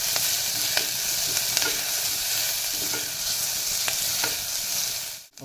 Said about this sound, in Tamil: ஓகே, இந்த அளவுக்கு வதக்கிக்கோங்க வெங்காயத்தை.